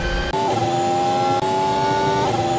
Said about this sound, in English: let's see if that Ferrari power unit is able to do wonders down the straight